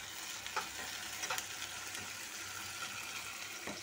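Onions and curry leaves with tomato sauté in hot oil in a bowl, giving a steady, close frying hiss with a few soft stirring scrapes.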